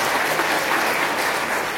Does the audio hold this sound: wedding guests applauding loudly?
yes